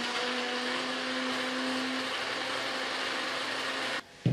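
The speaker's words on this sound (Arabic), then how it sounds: "سأحتاج إلى خلاط كهربائي أضع فيه البيض 3 بيضات، السكر، ثم أقوم بطحنهم حتى تذوب حبيبة السكر تقريبا دقيقة واحدة" An electric blender whirring steadily as it beats three eggs with sugar for an orange semolina cake, a loud constant motor drone that cuts off near the end.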